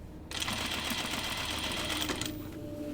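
Sewing machine stitching a layered dress seam, a fast, even whirring run of stitches that starts abruptly and lasts about two seconds before slowing to a stop, heard close and alone.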